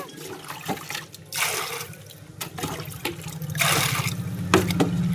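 Water splashes and runs in uneven bursts as fish pieces are rinsed, loud and close, with no talking.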